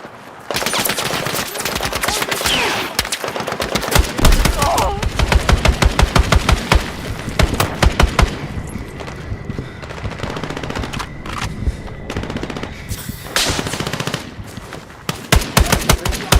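Rapid machine-gun bursts and rifle shots crack loudly through a Battlefield 6 firefight, dense rattling volleys with short gaps and a few shouted voices in between.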